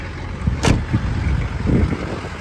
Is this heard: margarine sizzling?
no